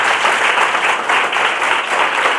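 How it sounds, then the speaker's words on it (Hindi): A classroom of students bursts into steady, dense clapping, loud and close, sustained evenly without any voices rising above it. "बिल्कुल, तालियां आप सबके लिए।"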